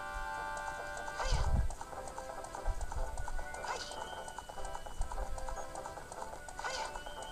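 Hooves of a horse galloping in the video game Zelda Ocarina of Time 3D clip-clop in a steady, fairly soft rhythm, with a few louder neighs or bursts breaking through.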